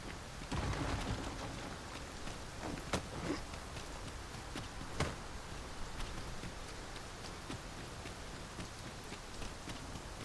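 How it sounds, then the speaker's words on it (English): Rain falling in the video game Dragon's Dogma 2, a soft continuous patter with scattered sharper drop ticks, faint and even throughout with a brief heavier rumble near the start. "I'm assuming we're drenched because it's raining, though."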